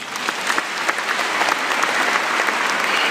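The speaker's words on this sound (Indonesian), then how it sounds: "Kita tepuk tangan untuk itu." An audience at a church teaching session bursts into loud, dense applause, many hands clapping close and continuously for a few seconds.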